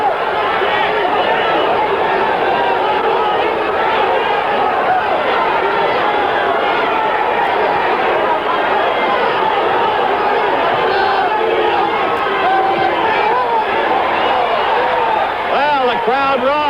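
A 1977 boxing crowd at the Ali vs Evangelista fight, a loud, sustained roar and hubbub of many voices filling the arena throughout, with a commentator talking over it.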